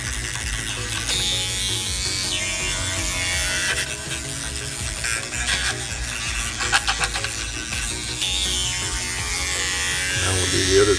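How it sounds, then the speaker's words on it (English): A continuous buzzing hum of an electric toothbrush running, close and steady for the whole stretch, with a person talking over it. "Use electric toothbrush and stuff like this because it just makes it so much easier."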